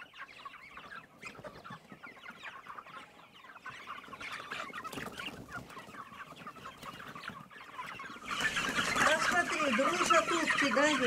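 Muscovy ducklings and about a hundred poultry on a farm cluck and peep in a busy chorus that grows louder and denser toward the end, with voices talking at times.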